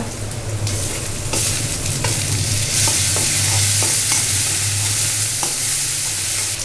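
Onion paste tipped into a pan of fried onions sizzles steadily and loudly, with repeated scraping stir strokes of a spoon throughout and no voices.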